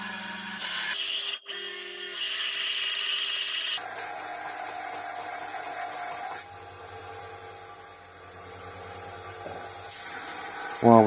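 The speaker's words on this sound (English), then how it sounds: "While we've got the belt sander out, we'll clean the edges up as well of those jaws." Belt sander fitted with a 120-grit belt grinding the jaws of a rusty Rededa 251 vise against a wooden block, a steady loud motor whine and abrasive hiss running continuously with brief breaks and shifts in pitch.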